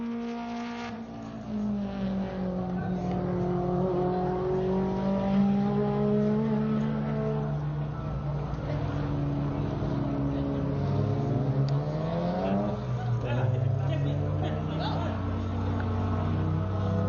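A BMW 1M race car laps Buttonwillow track, its engine note rising and falling through gear changes under steady commentary from a voice.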